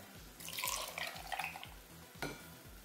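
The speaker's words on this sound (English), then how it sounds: "I'm going to be adding about 3/4 of a cup of almond milk" Almond milk poured into a batch of overnight oats, a short soft liquid splash and trickle close by, quiet and brief with a faint clink near the end.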